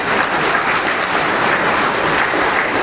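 Dense, steady audience applause welcoming people onto a stage, a loud wash of many hands clapping without a break and with almost no talking.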